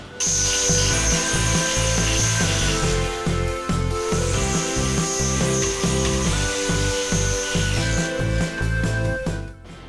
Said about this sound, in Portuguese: Aqui no caso eu vou cortar 280 com 70 milímetros. Vai na tico-tico mesmo